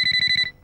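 A mobile phone rings in a Telugu film scene with a bright, pulsing electronic tone in quick, even beats. It cuts off after about half a second, leaving a faint low murmur.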